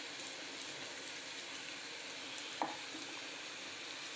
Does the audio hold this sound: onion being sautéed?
yes